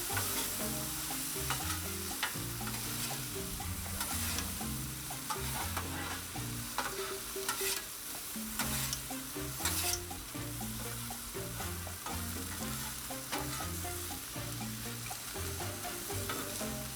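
Kung Pao chicken stirred on a Blackstone 22-inch griddle over medium heat, with steady sizzling and frying and constant scraping and clinking of a spatula against the flat top, close and continuous throughout.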